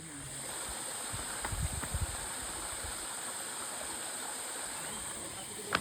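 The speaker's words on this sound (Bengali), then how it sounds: "গাইজ তোমরা কি আওয়াজ পাচ্ছ কোনো জল পড়ছে" Waterfall in Odisha with reduced flow, water falling from above into a pool, a steady broadband rush heard from a short distance, with a few low thumps and no talking.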